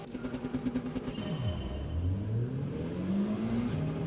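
Race cars in a racing video game launch off the starting line. An engine revs up, its pitch drops sharply at a gear change, then climbs steadily again. The sound is continuous and close, with no speech.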